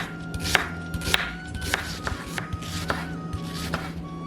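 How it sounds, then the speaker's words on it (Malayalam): An onion is sliced into small pieces with a knife on a cutting board in a home kitchen, giving a steady series of crisp, close chopping knocks about twice a second. "ഇനി ഇതിന് വേണ്ടിയിട്ട് നമ്മൾക്ക് സവാള അരിഞ്ഞെടുക്കാം"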